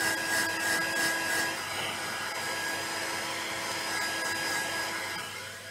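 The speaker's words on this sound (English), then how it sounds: "just go across your project very lightly with your heat gun, all those strings will disappear." A heat gun blows a steady, loud, close rushing hiss over paper roses to clear glue strings, with a high whine running through it, continuous for several seconds and dropping off slightly at the end, with no talking.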